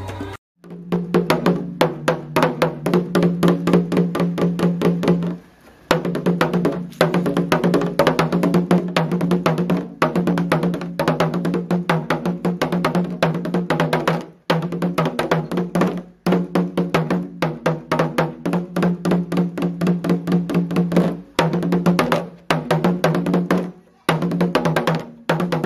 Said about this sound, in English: This is the sound of talking drum.